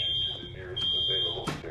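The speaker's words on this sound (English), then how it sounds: "Another fire alarm." Fire alarm going off, a shrill high-pitched electronic tone sounding intermittently and fairly faint beneath a television scene's voices and background noise.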